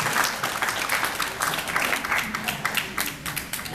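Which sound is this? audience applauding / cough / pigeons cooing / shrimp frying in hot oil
audience applauding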